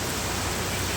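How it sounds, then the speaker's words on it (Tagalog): Heavy rain pouring down at a building construction site with formwork, a dense, loud, steady hiss of water on surfaces with no break and no voices. "Lakas ng ulan kasi mga guys o."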